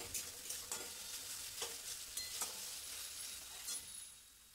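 A ground paste of coriander, cumin and dried red chili frying in oil, a soft continuous sizzle with rhythmic stirring scrapes and light clinks of a spoon against the pan, faint and steady.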